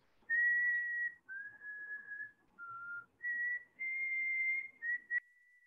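A person whistles a slow series of clear, sustained notes at slightly varying pitches, imitating the song of a whistling thrush of the Indian ghats, with short breaks between phrases.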